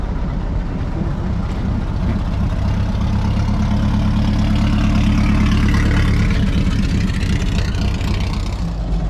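A vintage V8 hot rod idles on a wet beach, its deep, steady low rumble chugging on without pause, loud and close throughout.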